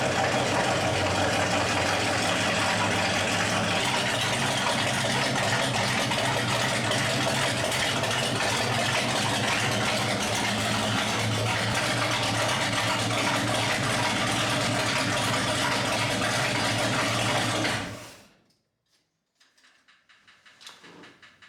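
Big block V8 in a retired dirt racing truck idling with its mufflers removed, a loud, steady deep rumble held for about eighteen seconds before cutting off abruptly into near silence.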